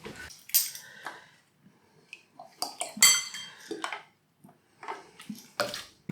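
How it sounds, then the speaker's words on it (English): Milk and lemon juice being mixed together in a container, heard as a sequence of clinking utensil and dish contacts with light liquid sloshing, close and fairly loud in short bursts with quiet gaps between. "Just take 375 ml of normal milk and 2 tablespoons of lemon juice and mix those together."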